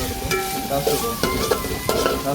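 Onion fry stirred in a pan with curry leaves, a spoon scraping in steady repeated strokes over a continuous loud sizzle of frying, close and with no voices.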